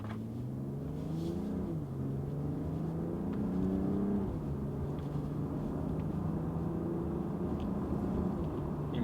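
A 2024 BMW M440i Gran Coupe, Kia Stinger GT, Audi S4 and Mercedes-Benz C43 AMG launch side by side in a drag race, heard as a steady engine drone that climbs through the gears with a clear shift midway.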